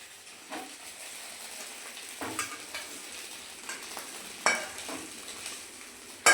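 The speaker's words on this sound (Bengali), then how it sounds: "মা ডিম ভাজছে" Eggs fry in a pan on a home kitchen stove, a soft steady sizzle punctuated by several brief louder scrapes and stirring clatters close by.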